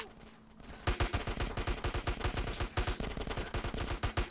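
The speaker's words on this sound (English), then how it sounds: "Who's shooting me like this?" Rapid automatic gunfire in the video game GTA San Andreas, a loud, dense stream of shots in quick steady bursts that starts after a brief quiet moment and continues without pause, with no voice over it.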